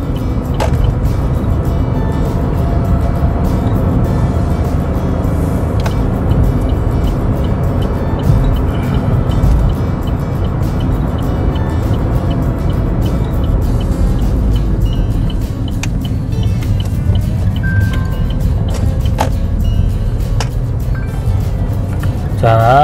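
A manual gasoline car idles and pulls away as the accelerator is pressed and the clutch released, producing a steady, close engine drone throughout with a voice talking over it.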